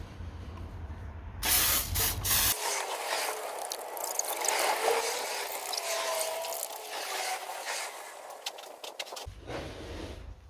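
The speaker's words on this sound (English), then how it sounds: "we'll give the headlight a quick wash" Spray hisses in steady bursts over a BMW E60 headlight, with clicking trigger-like mechanical sounds between them, close-up and fairly quiet, no talking.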